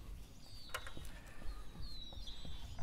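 Birds sing and chirp outdoors in a back yard, with faint, thin high calls and short whistles scattered through a steady low background rumble.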